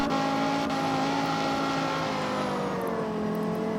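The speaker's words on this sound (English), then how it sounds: "Oh my god, the wheel spin is nuts on it" In CarX Street, a Viper on sports tires spins its wheels, a steady loud engine roar with squealing tires and no pause.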